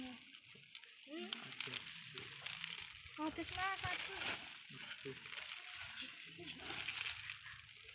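Water is poured slowly in a gentle, continuous trickle with light splashing, mixed with children's voices and an adult speaking nearby.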